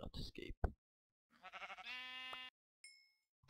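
Sheep bleating in a video game, a few short electronic bleats rising in close succession amid loud excited talk and laughter, with a brief chime following.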